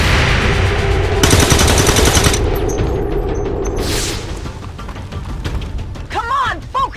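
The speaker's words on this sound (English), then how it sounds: "Taking fire over here." Gunfire in XCOM 2 bursts in loud, rapid automatic rattles mixed with booming impacts and mechanical clatter, dense at first then thinning out, with shouted voices over it.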